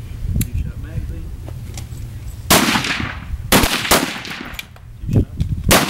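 Highpower rifle shots fired at a 100-yard NRA match range, several sharp loud reports spaced unevenly over a few seconds, with a range officer's voice and outdoor background noise between shots.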